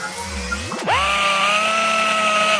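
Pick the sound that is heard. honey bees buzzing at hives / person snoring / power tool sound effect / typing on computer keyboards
power tool sound effect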